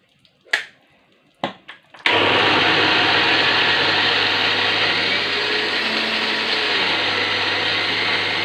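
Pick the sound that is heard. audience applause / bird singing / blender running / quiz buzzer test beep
blender running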